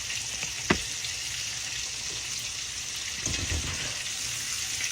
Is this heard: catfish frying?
yes